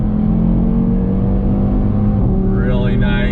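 A 2020 Audi TT RS pulls hard in second gear on throttle, its engine a loud, steady, close drone that climbs in pitch toward the end.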